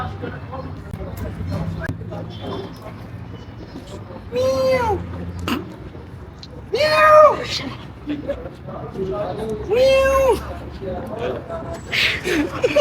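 A person imitates an angry cat with several drawn-out, whining meows, loud and close, mixed in with people chatting and laughing nearby.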